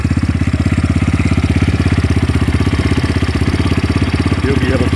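A 2022 X-Pro Titan DLX 250cc motorcycle engine idles steadily with a fast, even thumping pulse while its carburetor is adjusted, close and loud, with someone talking over the running engine.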